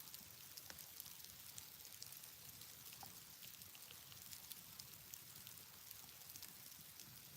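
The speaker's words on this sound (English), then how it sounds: "I hear the rain coming." Steady rain falls outside a cabin, a dense patter of drops with occasional sharper ticks, faint and continuous, with no voices.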